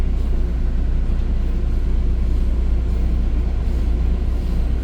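A CPKC freight train with ET44AC locomotives and stacked containers racing an EXO commuter train toward Dorval, heard as a steady, loud, continuous low rumble and roar throughout, with no clear breaks and no talk.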